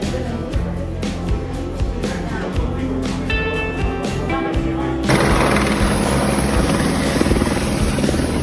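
A helicopter on the Kedarnath route makes loud, close rhythmic rotor chopping, steady throughout, and the roar grows broader and heavier in the second half.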